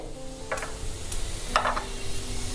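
Urad dal frying in oil in a pan, a steady low sizzle with a few brief spoon scrapes and clinks, moderately close and with no talk.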